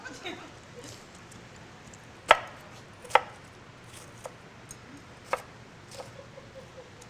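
A sharp knife chops through an onion on a cutting board, giving a few separate crisp strikes spaced irregularly over quiet background noise, with faint handling sounds between cuts.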